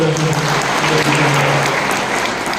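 Crowd applause at a political rally in Sangola for a speech by MP Ranjitsinh Naik Nimbalkar: a steady, loud burst of clapping that runs the full length, with faint voices mixed beneath it.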